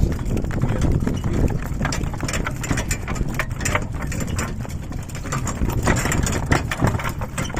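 A horse pulling a wooden cart in a Ukrainian village, steady clip-clop of hooves mixed with rumbling wheels and a running engine close by, continuous with no talk.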